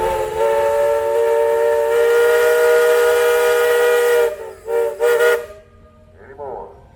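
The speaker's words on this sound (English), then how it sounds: "Mr. Somerville, you got a whistle." A steam engine whistle blows at a steam engine and threshers festival, one long loud steady tone that cuts off and then gives a couple of short sputtering blasts, with a faint voice afterward.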